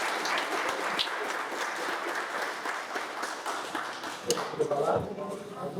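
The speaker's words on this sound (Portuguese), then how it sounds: "Pode aplaudir mais uma vez, meu Senhor?" A church congregation at a Brazilian Videira conference in Gunma, Japan, applauds steadily throughout, the clapping dense and moderately loud, with a few sharper claps and some shuffling toward the end.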